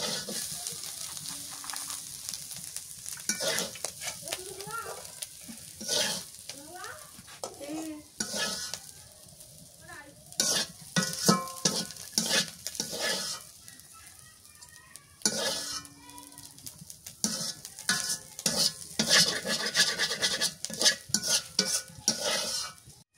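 Shrimp and potato bhaji bubbling and sizzling in a pan, with steady crackling frying and frequent popping bursts, plus occasional scraping of a spatula against the pan; no one speaks.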